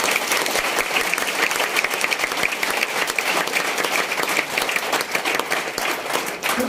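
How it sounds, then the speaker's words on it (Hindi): Enthusiastic crowd applause at a Milifestyle Marketing training gathering in Virar: many hands clapping in a thick, even roar that holds steady from start to finish without speech over it. "उनके लिए ताली कैसा होना चाहिए?"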